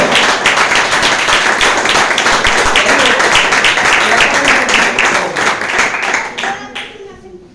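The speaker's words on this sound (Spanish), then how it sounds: "¿Y cuántos le dan un fuerte aplauso al Señor?" Loud, dense applause from a large church congregation, steady for several seconds before tapering off at the end.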